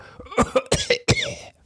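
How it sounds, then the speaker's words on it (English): Harsh coughing fit, several rapid, close coughs in quick succession with a throaty, rasping quality, heard alone. "How long have you had that cough?"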